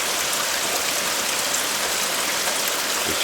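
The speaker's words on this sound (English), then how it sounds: "it's raining again in Alabama" Steady rain falling in a back yard in Alabama, a constant even hiss of drops on surfaces with no break, fairly loud and alone.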